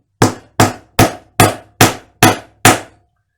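Seven sharp, evenly spaced hammer blows drive a glued wooden dowel into a hole in a workbench top, each a loud close knock with a quick decay and silence between strikes.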